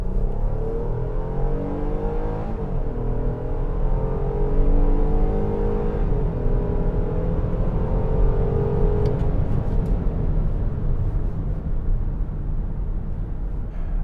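A 3.5-liter naturally aspirated V6 in a 2023 Nissan Pathfinder SL pulls hard under acceleration, a steady, loud engine drone whose pitch sweeps upward and holds, with no one talking.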